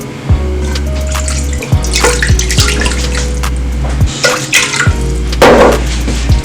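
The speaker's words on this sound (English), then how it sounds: "So I'm putting hot water." Hot water runs from a kitchen tap into a pot for chicken curry noodle sauce, a steady close splashing stream with brief clinks and drips, no talking.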